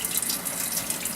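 Tap water runs steadily into a bowl being filled for a kitten's bath, a soft, even splashing stream heard close up without any talk.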